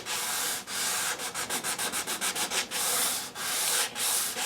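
Sandpaper rubbing along the Brazilian rosewood fingerboard of a 1959 Fender Stratocaster, a steady close scratchy hiss broken by a run of quick short back-and-forth strokes, then longer even passes.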